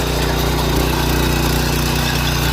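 A power weeder engine runs close by, a loud, steady mid-pitched chugging drone without pause and without talk.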